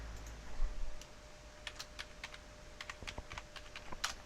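Rapid typing on a computer keyboard during a Minecraft live stream, close and fairly quiet, with irregular clusters of sharp key clicks and no talking.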